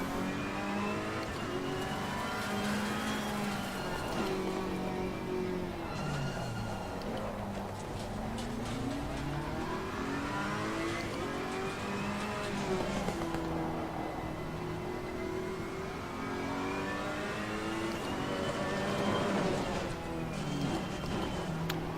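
A Ferrari race car engine in the Assetto Corsa Competizione sim at the Nürburgring, revving loud and steady throughout, its pitch rising and dropping with gear shifts and braking, close and continuous with no talk.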